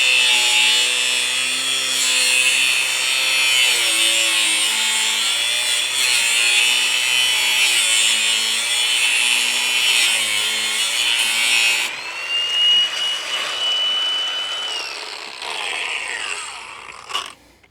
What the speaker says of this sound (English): One thing I find with these rigid grinders, they don't have much torque.